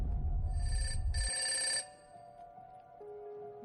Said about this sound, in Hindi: उसी वक्त रूम का लैंडलाइन बज उठा।